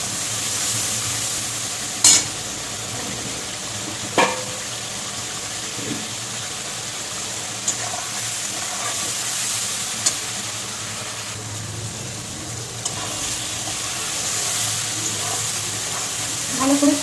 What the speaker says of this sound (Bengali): আমি একটু ভালো করে কষিয়ে নেব।